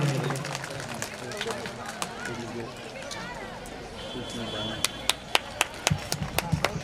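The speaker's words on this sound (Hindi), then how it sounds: "तालियों की गड़गड़ाहट रुकनी नहीं चाहिए" Applause from an audience at a Hindu religious gathering, a dense wash of clapping with crowd murmur and voices mixed in, ending in a few sharp, louder individual claps.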